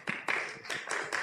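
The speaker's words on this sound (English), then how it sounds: "Lots of applause." Clapping from the audience at a keynote address at a Baltic American conference, a short burst of a few hands with distinct claps, fairly close and modest in level, heard alone without talk.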